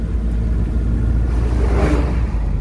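Steady low engine rumble of a motorized tricycle nearby, with a slight rise in revving partway through and no talking.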